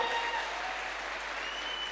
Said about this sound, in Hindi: एक बार दमदार ताली होनी चाहिए,